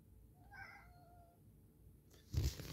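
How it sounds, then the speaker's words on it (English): A house cat gives a single clear, drawn-out meow up close in a quiet room, followed by a short rustling thump. "Hey, Ori, can you give me some evidence that you meow like crazy"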